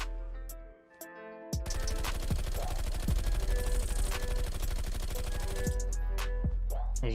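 Bizon submachine gun in Call of Duty Black Ops Cold War firing one long, rapid full-auto burst that runs unbroken for about six seconds after a short quiet start, loud and close.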